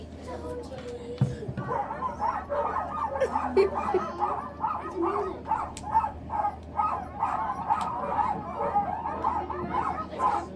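Sled dogs at an ice dog race yip, whimper and bark in quick repeated bursts, fairly close, with a human voice now and then in the background.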